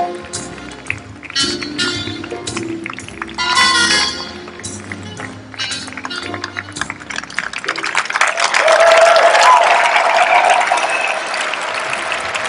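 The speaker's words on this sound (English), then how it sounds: "as you can hear, the crowd really loved that performance" An audience at a world championship in standard ballroom dancing breaks into dense clapping that swells into a sustained, loud wave of applause with some cheering, heard over fading music.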